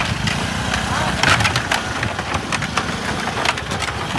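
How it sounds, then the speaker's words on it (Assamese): A motorcycle rides over a bridge, its steady close engine drone mixed with rattling and clattering from the deck beneath the wheels, continuous throughout. "এই বাইকখন যায়, তথাপি চিংগল যাব লাগিব বাইকত।"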